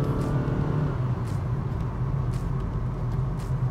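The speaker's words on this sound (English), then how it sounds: "That's how we accelerate the WRV." Honda WR-V with a 1.5 engine accelerating, a steady low engine drone with faint road noise held at even loudness throughout, heard from inside the car.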